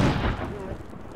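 A grenade blast in the Arma 2 video game, a loud low boom that opens the moment and then rumbles and decays over about a second, with a voice faintly present underneath.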